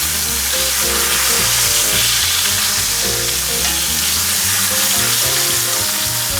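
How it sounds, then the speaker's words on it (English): Australian Wagyu picanha steaks sear loudly in a hot pan, a dense, steady sizzle and crackle of rendering fat filling every moment without pause, close and continuous with no talk. "I'm going to sear these just a little bit longer because I want to make sure that the middle part is nice."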